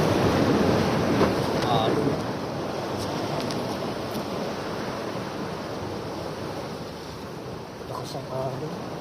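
Strong ocean waves wash and surge at night during a fishing trip, a broad rushing roar with wind buffeting the microphone, louder at first and then steady.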